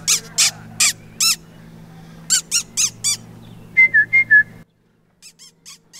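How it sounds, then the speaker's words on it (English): On a farm, short sharp bursts are followed by a run of four quick, high chirping whistles aimed at a horse, set over a low steady hum, with a few soft blips after a sudden silence. "I like to make little whistle sounds, and when I do, this horse really, really gets angry at me."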